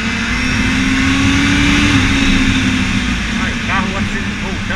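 A Honda Hornet motorcycle ridden at night in Rio de Janeiro, its engine droning loud and close with a rising pitch as it revs, under steady road and wind noise.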